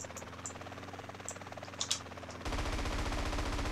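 In GTA San Andreas, a fast stream of gunshots starts partway through and keeps firing loudly to the end. Before it come a steady engine-like drone and a few scattered clicks.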